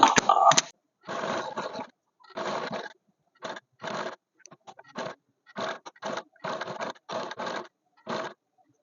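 A sewing machine double-stitches lace onto a round neckline, running in about a dozen short close bursts separated by brief pauses, with no talk.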